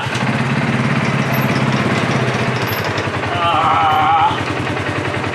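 A car with a failing transmission output shaft runs with a harsh, rhythmic grinding rattle. The sound is loud and continuous, with a brief higher whine near the end, and voices are heard faintly in the background.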